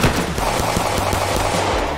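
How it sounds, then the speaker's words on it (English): Rapid bursts of gunfire in the State of Anderson roleplay game, a dense fusillade of sharp repeated shots filling the whole stretch, loud and close with no talking. "Shots fired."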